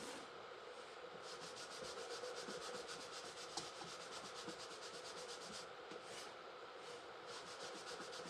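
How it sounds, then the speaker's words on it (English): Steady rubbing of surface wax onto a painted wooden tag, a continuous soft scrubbing texture with faint periodic strokes, close and alone. "Adding some surface wax right over top of this entire thing to protect all of that paint that we just put down."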